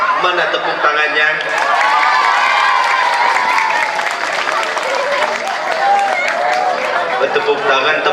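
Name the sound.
audience applause and cheering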